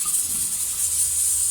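A pressure cooker of boiled turnips being opened releases a steady, bright hiss of escaping steam, close and continuous throughout, with no other sounds.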